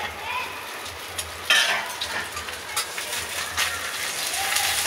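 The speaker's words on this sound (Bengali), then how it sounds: "এই যে আমার মাছ ভাজাটা, দেখো ফাটছে কিরকম।" Pabda fish frying in oil, sizzling with sharp spluttering pops and crackles, broadband hiss rising in bursts, fairly close, with no talk.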